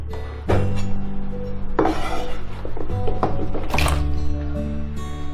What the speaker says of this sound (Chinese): 然后再给它们切成条。